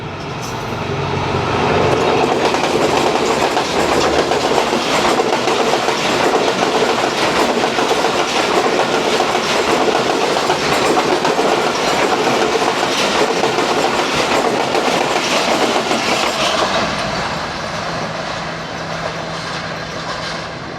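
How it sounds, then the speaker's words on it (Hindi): The Rehman Baba Express, pulled by locomotive ZCU20, passes at high speed: a loud, continuous roar and rattle of wheels and carriages close by, with clickety-clack rhythm throughout, easing slightly near the end. "ZCU20 के साथ रहमान बाबा एक्सप्रेस अप्रोच कर रही है with a very good speed"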